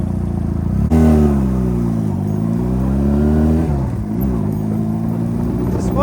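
Honda Rebel motorcycle engine while riding, a loud close droning exhaust note that rises sharply as the throttle opens, holds steady, then dips and climbs again through gear changes, with wind rush behind it.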